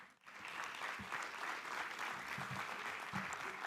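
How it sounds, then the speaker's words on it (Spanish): Audience applause for Rodrigo González at an international convention on job training for the future: a full, steady wash of many hands clapping, loud and sustained throughout with no voices on top. "quiero darle un fuerte aplauso a Rodrigo González"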